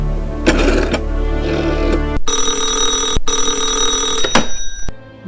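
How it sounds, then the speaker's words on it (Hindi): A telephone rings in loud, close bursts of a trilling electric bell, separated by short pauses and layered over a steady background tone, with no one speaking. "उस रात उन्हें पीवी नरसिम्हा राव के विश्वास पात्र पीसी अलेक्जेंडर का फोन आया।"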